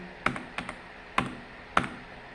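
Enter key pressed on the keyboard of a 2006 laptop, four sharp plastic key clicks, close and clear, spaced unevenly with a quick double tap in the middle.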